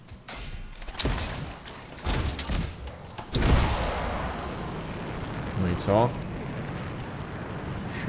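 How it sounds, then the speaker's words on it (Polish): Heavy booming gunfire bursts from the video game Anthem, several loud blasts with rumbling tails, the last ones growing more distant, while a voice speaks briefly over them. "Co to za strzały poszły?"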